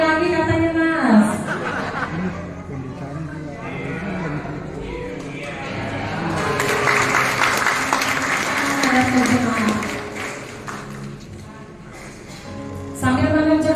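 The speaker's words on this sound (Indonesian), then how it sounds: "mari kita beri tepuk tangan" An audience applauds a newly blessed family at a ceremony, the clapping swelling to a broad wash midway and blending with voices and background music.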